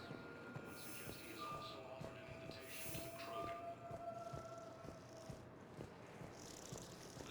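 Transit vehicle pulling into a docking bay in Mass Effect 3, a low rumbling ride with rhythmic rail-like clatter and faint tonal whines gliding past, steady and fairly quiet throughout.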